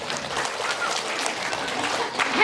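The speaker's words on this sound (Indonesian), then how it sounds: "Subang sok tepuk tangan dong" Audience at a Quran recitation gathering clapping, a brief, fairly soft and uneven patter of hands with some murmur underneath.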